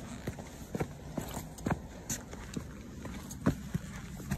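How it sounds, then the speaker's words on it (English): Footsteps recorded for a PS1 horror game land as faint, irregular thuds and scuffs, about a dozen soft impacts spread across a quiet background. "record the sound of the footsteps"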